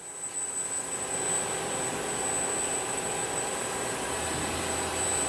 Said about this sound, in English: I'm going to start with running the main spindle. That's 2500 on the main spindle.